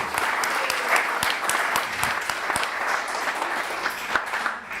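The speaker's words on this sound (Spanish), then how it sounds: "Pido un aplauso para los compañeros que prepararon el trabajo" Audience applause at a political debate on corruption, steady and dense clapping from a crowd that holds at an even level throughout, with sharper individual claps standing out near the front.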